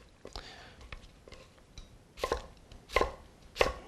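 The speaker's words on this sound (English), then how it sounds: "I've got 3 potatoes. Use as many as you need, and just slice those." Knife cutting through potatoes on a board for hand-cut fries, a few light taps followed by three louder, sharper chops toward the end, close up, with faint whispery sounds between.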